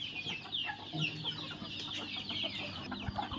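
Chicks and country hens in a goat and poultry shed peck at soaked maize, with steady soft clucking and high peeping chirps throughout, fairly quiet and close.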